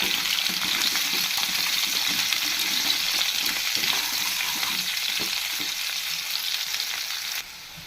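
Small potatoes frying in hot oil with salt and turmeric, a steady loud sizzle with crackling and occasional stirring scrapes throughout, dropping slightly quieter at the very end.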